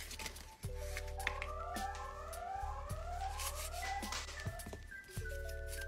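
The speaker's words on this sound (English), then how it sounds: "So I turned on the siren." A siren wails with rising and falling electronic tones, steady and fairly loud throughout, over a low background hum.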